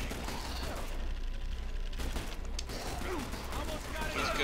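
Gunfire and combat noise in the video game The Bureau, dense and continuous, with bursts of shots, impacts and mechanical sounds blending into a loud, busy battle mix throughout.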